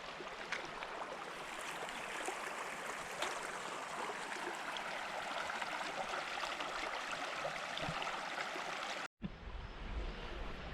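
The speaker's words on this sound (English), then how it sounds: "And the Loyalsock Creek is right here." Loyalsock Creek flowing steadily, a constant close rushing and burbling of water that is fairly quiet, with a brief cut near the end after which the flow carries on.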